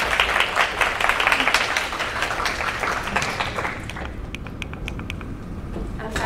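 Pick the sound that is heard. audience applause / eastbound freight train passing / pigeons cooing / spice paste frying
audience applause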